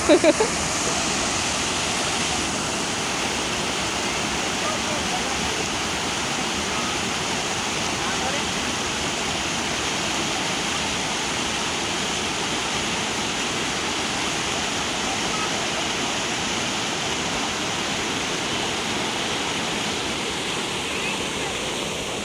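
Rushing water of the Namaloya river flows as a constant, broad roar. It is loud and near, holding steady and unbroken for the whole stretch after a short bump at the start.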